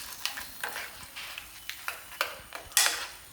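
Ground coconut paste stirred into a simmering Kerala curry, heard as a steady series of close scraping and clicking strokes at an even rhythm over a soft sizzle, ending with a louder scrape.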